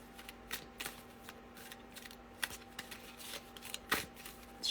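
Tarot cards being shuffled by hand, a run of soft riffling bursts and flicks close to the mic, fairly quiet and without speech.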